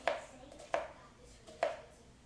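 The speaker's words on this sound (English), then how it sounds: "Gonna do my slices, rainbow around the onion." A knife slices through an onion on a cutting board in three sharp, evenly spaced cuts, each a crisp close tap with a brief ring, with quiet pauses between.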